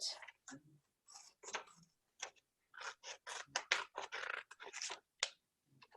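Scissors cut out a paper chef's hat, a toque, in a series of short crisp snips coming in irregular bursts with quiet gaps between them, close and fairly soft.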